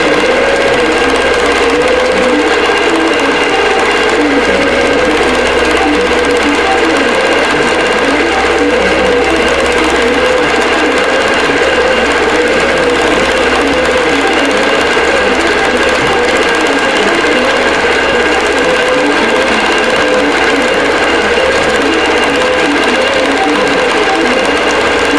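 An IQ longarm quilting machine stitching a wholecloth quilt, a loud, continuous, rapid mechanical whirring and chattering hum that holds steady the whole time.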